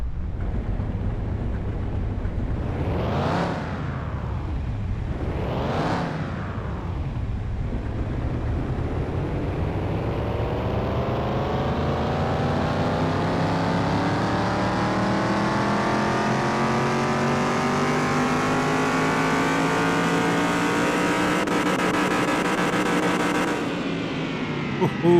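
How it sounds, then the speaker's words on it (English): A car engine in Car Mechanic Simulator 2021 revs twice sharply on a dyno, then climbs in one long, loud sustained pull to high revs before cutting off near the end. "Let's go ahead and do a dyno"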